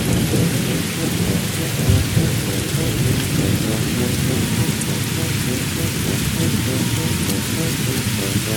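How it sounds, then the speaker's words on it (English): Heavy rain pours down in a loud, continuous roar over an orange orchard while deep rumbles of thunder roll underneath. "Pouring rain came down so hard"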